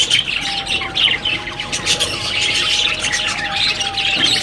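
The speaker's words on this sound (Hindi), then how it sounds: "ये देखें यहाँ कितने तोते हैं।" Young parrots in a pet enclosure squawk and chirp constantly, harsh loud calls overlapping close by with a steady high-pitched whistle running underneath.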